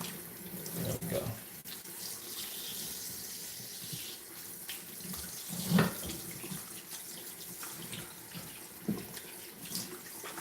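Running water steadily rinses a dog during grooming, a continuous hiss and splash of spray with occasional louder splashes, close and without a break.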